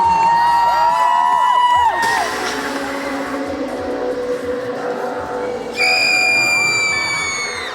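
A large crowd cheers and roars continuously, with whistles and whoops rising above the din; bursts of loud shouting at the start and end.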